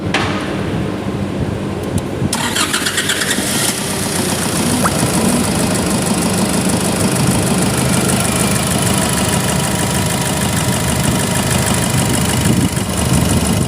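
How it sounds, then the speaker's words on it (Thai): A Nissan Navara pickup engine, recently fitted with a new cylinder head and head gasket, is restarted and settles into a loud, steady idle with a continuous rumble and rattle. It is heard close up, and nobody talks. "เดี๋ยวจะลองดับเครื่องแล้วติดดูอีกทีหนึ่ง อ่ะติดเลย"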